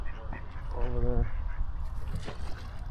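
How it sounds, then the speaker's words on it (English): Ducks, with swans nearby, calling at a lake in Lowestoft at sunset: a short burst of nasal honking quacks around the middle, fairly close, over steady outdoor background noise. "So these ducks don't seem to want to be bothered because I've got no food."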